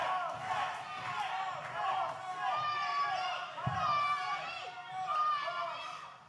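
Raucous crowd at an OVW wrestling event cheering and yelling continuously, loud and close, with one brief thud partway through.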